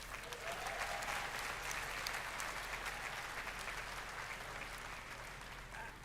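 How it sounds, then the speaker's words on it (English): Audience applause at a Roblox keynote, a steady sustained clapping from a large crowd that holds at an even level throughout with no talking over it. "That deserves a round of applause."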